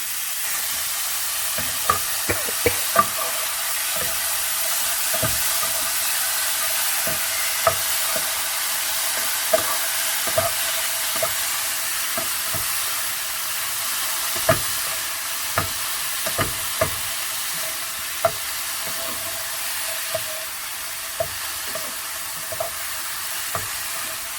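Boiled jackfruit pieces are stirred in a curry pan over steady frying sizzle, with irregular sharp clicks and scrapes of the spoon against the pan throughout.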